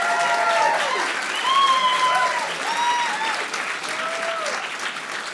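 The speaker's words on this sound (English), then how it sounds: "So please, a round of applause." An audience at a graduate research presentation competition applauds its finalists. The clapping is steady and fairly close, with scattered whoops and cheers rising over it before it eases slightly toward the end.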